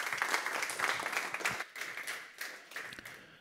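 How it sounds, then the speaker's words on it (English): Conference audience applauding a speaker introduced at a tech talk: moderately quiet clapping from a modest crowd, uneven with distinct individual claps, thinning and fading across a few seconds. "give a warm round of applause for David Spiola."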